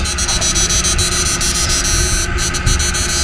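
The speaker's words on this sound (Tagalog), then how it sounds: "Bali, ito paandarin mo natin. Bali, umaandar na yan, mahina." A 68000W inverter under repair, with its inductor spring not yet fitted, runs with a steady, unbroken hum and buzz throughout and no talking.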